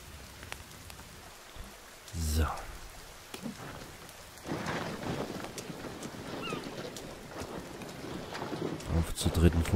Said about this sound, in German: Regen ist gut, es füllt die Schüssel wieder